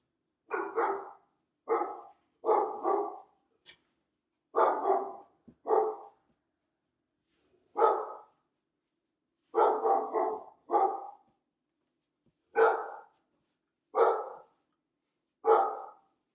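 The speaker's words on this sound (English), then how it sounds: "So you can probably hear her barking." A dog barks repeatedly, mostly in quick pairs and triplets of sharp barks separated by short pauses, moderately loud and slightly distant, with no talking.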